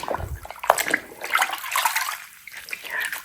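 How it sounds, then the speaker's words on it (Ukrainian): Soapy water sloshes and splashes close by as a floor is washed by hand without a mop, with wet rubbing and dripping sounds throughout. "тепер буду мити підлогу. Вручну помию, без швабри."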